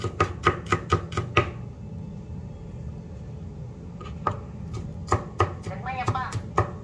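Garlic being chopped into small pieces with a knife on a board: two close, rapid runs of sharp tapping strikes separated by a short quiet pause, over a low room hum.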